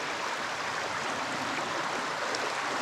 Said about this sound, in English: listening to the sounds of the water. Some rapids over there.